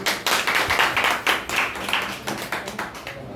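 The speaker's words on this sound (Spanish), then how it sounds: "Den un aplauso a Cristo" A congregation at a church lesson claps, with loose, uneven bursts of hands that rise and fall without a steady beat, fairly close and moderately loud.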